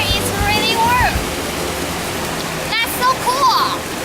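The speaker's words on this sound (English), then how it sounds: "the very crystal clear creek" A crystal clear creek in Jinsui Park, Beitou, rushes steadily in a broad, close, continuous wash, with bird chirps and people talking over the flow.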